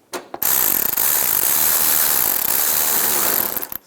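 A ratchet snugs down a 7mm screw on a 2010-2017 Chevy Equinox horn, a loud rapid run of close clicking that continues steadily for about three seconds, with brief pauses at the start and end.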